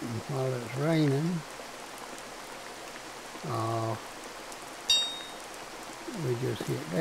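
Rain falling in the video game CrossWorlds: Escape, a faint steady hiss of rainfall running under intermittent speech, with a short chime-like tone partway through.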